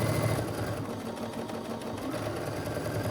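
A sewing machine stitches quilt blocks for a rail fence quilt, a steady even whirring hum running throughout at moderate level, with no voices.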